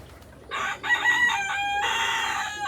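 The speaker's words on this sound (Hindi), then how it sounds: "ये पिजन्स के साथ हमारी मुर्गियाँ भी उड़ रही हैं।" A rooster crows loudly and close by on an open farm, a long, ringing call stretching over two seconds, with chickens and pigeons nearby and no one talking.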